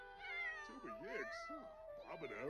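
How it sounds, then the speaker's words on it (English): A cat in The Sims 4 meows several times, drawn-out rising and falling cries close by and fairly soft, while a person talks quietly over the game sounds. "Is that her? Is that my cat? Is this my cat? This is my cat."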